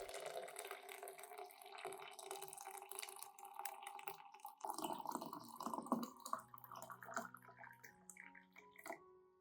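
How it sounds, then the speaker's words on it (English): Hot water pours steadily into a container over banana peels, a continuous quiet splashing and trickling that shifts to gurgling and a few drips toward the end, with no talk. "add 500 milliliters of hot water to soak the banana peels"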